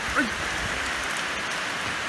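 Heavy rain pours down in a dense, constant hiss, with a brief faint voice-like squeak near the start.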